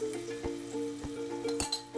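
Minced garlic sautés in hot oil with a soft, steady sizzle. A spoon clinks against the pan now and then, and a faint tonal background hums underneath.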